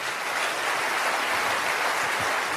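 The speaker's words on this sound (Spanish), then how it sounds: "Tienen que aplaudir más que eso si lo crees." A church congregation applauding, steady dense clapping that fills the space evenly and stays at one level throughout, with no voices on top.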